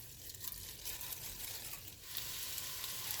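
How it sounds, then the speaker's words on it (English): Pre-seasoned pork meat hits a preheated pot with a couple tablespoons of oil, sending up a loud, steady sizzle and crackle that swells partway through and holds close and continuous with no talking. "Now I'm going to add my pre-seasoned pork meat."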